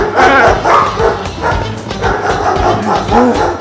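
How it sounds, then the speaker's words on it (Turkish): Dogs bark and yip over and over, loud and close, in uneven rapid bursts filling the whole moment. "Köpek var orada!"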